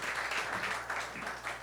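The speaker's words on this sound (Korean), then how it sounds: "우리 한 번 더 축복의 박수 하겠습니다." Applause from a church congregation at a young adults' worship service, a steady wash of many hands clapping at moderate volume throughout, with a faint low hum underneath.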